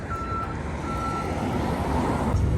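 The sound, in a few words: bus passing, reversing beeps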